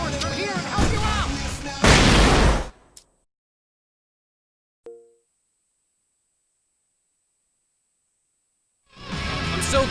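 Fireworks bursting in the Alan Wake video game: a loud rumbling barrage of booms with crackling, then a long near-silence broken by a single faint pop and a thin high tone, before the loud roar returns.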